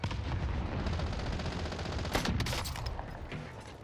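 Call of Duty Warzone gunfire crackles as a steady, dense stream of distant shots under a constant rumbling battlefield bed, with a few sharper nearer reports midway.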